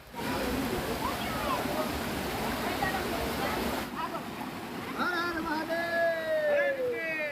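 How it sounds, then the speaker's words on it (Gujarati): Small mountain streams flow near Jatashankar Mahadev in the Girnar hills at Junagadh, a continuous close rush of water with birds chirping over it and voices in the background. "અહીંયા નાના નાના આજુબાજુમાં ઘણા બધા ઝરણા જોવા મળે છે."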